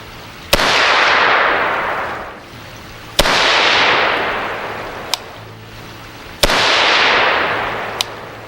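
Three loud, sharp gunshots from a 300 Blackout AR carbine, spaced a few seconds apart, each followed by a long decaying roar of echo across an outdoor range, with fainter distant shots between them.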